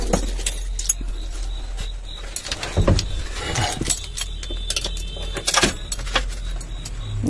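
Car keys jangle and clink in bursts of metallic rattles, close and fairly loud, while someone searches for the key to start a car whose battery is being fitted; faint vehicle and handling noises sit underneath, with no talk.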